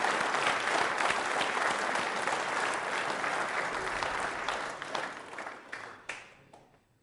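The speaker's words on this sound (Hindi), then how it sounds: "इनके लिए भी तालियां ज़रूर बजाएं" A hall audience at a quiz show for trainee RAS, RPS and state services officers breaks into sustained applause, dense at first and then thinning into scattered individual claps before dying out.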